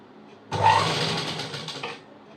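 A sewing machine stitching a blouse runs in one steady burst of about a second and a half, a close, loud whirring hum that starts and stops abruptly in a quiet room.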